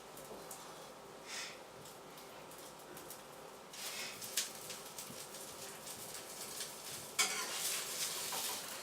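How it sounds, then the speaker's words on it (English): An omelet cooking in a cast iron skillet gives a soft, faint sizzle with bursts of brighter crackle and a few utensil scrapes and clinks, growing louder toward the end. "Flip the omelet over to brown the other side."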